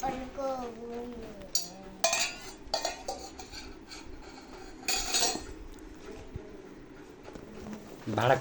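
A child alone playing at cooking with toy pots and pans, scattered clinks and scrapes of small metal utensils between bursts of an adult talking nearby.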